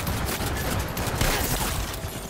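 Rapid, dense gunfire in Cyberpunk 2077, a continuous close barrage of overlapping shots and bursts with no pauses, loud throughout the short stretch and with no talking.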